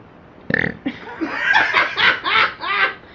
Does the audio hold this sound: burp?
yes